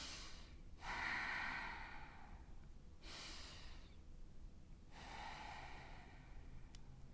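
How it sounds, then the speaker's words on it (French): Deep, slow breaths during a yoga session, with long airy inhales and exhales arriving in about three drawn-out waves, soft and close with no talking. "Allez, encore 2 respirations."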